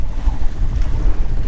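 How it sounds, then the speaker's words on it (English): Strong wind buffets the microphone on rough open water aboard a small motorboat running under its motor, a loud low rumbling roar that gusts unevenly throughout with no talk. "but it is super windy and quite rough"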